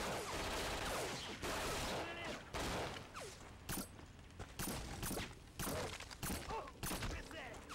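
Rapid bursts of gunfire from a PlayStation first-person shooter, sharp repeated shots and volleys clattering in irregular clusters over several seconds, with a player speaking over the action.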